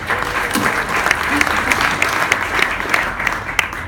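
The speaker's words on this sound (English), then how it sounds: "Give it a round of applause, ladies and gentlemen." Steady round of audience applause for an illusionist's stage act, dense even clapping throughout with a few sharper claps standing out near the end.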